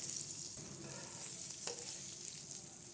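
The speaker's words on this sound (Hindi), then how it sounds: "खजूरें अच्छी तरह फ्राई हो चुकी हैं।" Pitted dates frying in hot ghee, a steady, close, loud sizzle with a bright crackling hiss that holds unbroken for the whole stretch.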